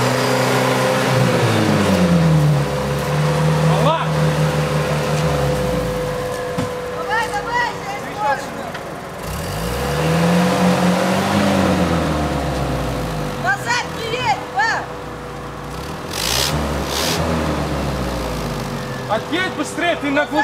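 In a forest, a car stuck on its muffler revs its engine in rising and falling surges, loud and continuous, while people shout over it.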